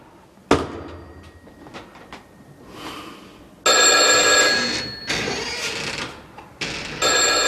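An old-style telephone bell rings in loud, sharp bursts indoors, several separate rings with short gaps and faint room noises between them.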